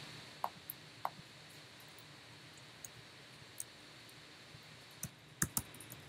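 Keys on a computer keyboard are tapped while logging in to a server, giving sparse, faint clicks spread out with a few quick bursts near the end in a quiet room.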